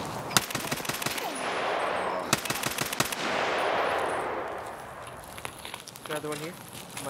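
Rapid bursts of video game gunfire, automatic fire crackling in quick volleys with a few separate shots, loud and close, while players talk over it.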